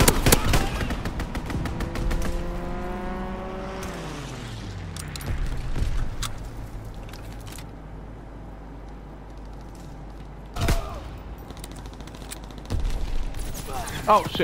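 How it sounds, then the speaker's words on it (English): Rapid machine-gun fire from a strafing run in the Call of Duty WW2 multiplayer game rakes past with a descending engine roar, followed by scattered distant gunshots and explosions; a voice briefly exclaims over the combat noise. "Enemy strafing run inbound."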